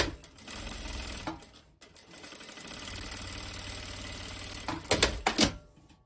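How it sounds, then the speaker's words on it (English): A sewing machine stitches a seam onto a pocket bag while a wrap dress is being made. The needle keeps up a steady, close mechanical whirr, stops briefly partway through, then starts again and ends in a few louder clunks. "sewing that seam to the pocket bag to secure it in place"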